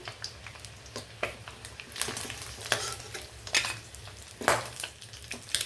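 Eggs frying in a pan, with a steady low sizzle broken by repeated sharp scrapes and clinks of a utensil against the pan.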